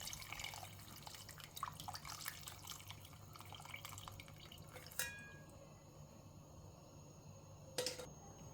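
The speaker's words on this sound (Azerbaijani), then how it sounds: "Sonra bişirdiyim ətin suyunu da süzgəcdən süzüb bura əlavə edirəm" Meat broth poured through a sieve into a pot for chickpea bozbash, heard as a quiet trickle and scattered drips of liquid, faint and close, with a couple of sharper metallic taps near the end.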